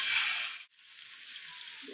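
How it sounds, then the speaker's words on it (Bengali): Boal fish fries in mustard oil with a bright, steady hiss; a short cut in the middle gives way to a quieter sizzle that continues to the end. "এখন দিয়ে দিব মাছটা আমি ভেজে নেব"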